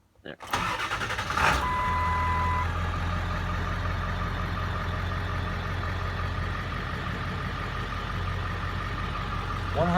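A 2002 Ford F350 pickup cranks briefly and fires, then settles into a steady, loud idle that runs for several seconds, with a person talking over the engine.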